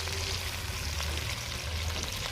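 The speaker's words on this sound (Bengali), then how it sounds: "এখন আলু ভাজা হচ্ছে আমার, আলু ভাজা হোক, তারপরে নামাবো।" Potatoes frying in a pan give a constant hiss and crackle, with a low steady hum underneath; nobody speaks.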